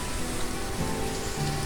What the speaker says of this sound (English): as I say this, it's raining.